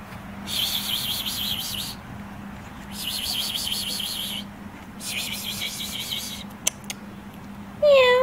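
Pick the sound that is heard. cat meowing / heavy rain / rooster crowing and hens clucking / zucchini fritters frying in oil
cat meowing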